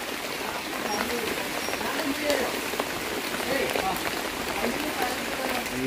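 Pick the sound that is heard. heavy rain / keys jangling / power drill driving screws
heavy rain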